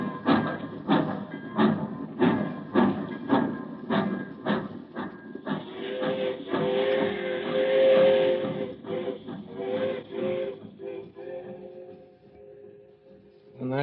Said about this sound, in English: When that train went,